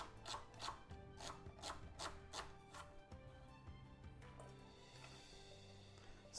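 A kitchen knife slices through celery on a cutting board in a steady run of crisp, evenly spaced chops, close and clear, with no one talking.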